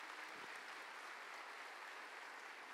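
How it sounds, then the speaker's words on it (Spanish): A church congregation applauds for Jesus, a steady, even wash of many hands clapping for a few seconds, fairly faint and with no voices standing out. "Dele un fuerte aplauso al Señor Jesús."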